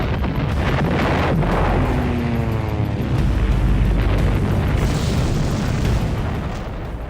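Deep booming bomb explosions from the Pearl Harbor attack, heavy rolling blasts layered over a dense roar of noise, loud and sustained with no clear gaps.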